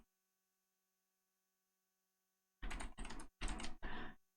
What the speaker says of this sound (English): here, I'm typing it in.